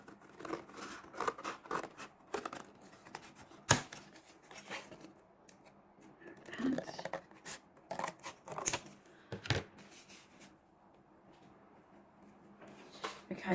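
A box panel is cut out to make the cover of a mini Christmas junk journal. Close, irregular snipping and crisp cutting sounds come in uneven bursts with short pauses, with paper handling between cuts.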